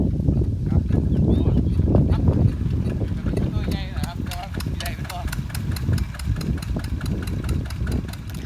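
A walking tractor engine runs close by to pump water, chugging with a rhythmic knock under people talking.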